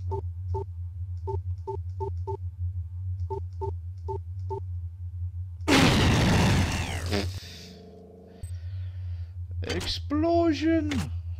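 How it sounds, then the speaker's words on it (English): A grenade blows up in the video game System Shock 2: sparse game beeps, then a sudden loud broadband blast that rumbles for over a second before quieter electronic game sounds follow. "Explosion!"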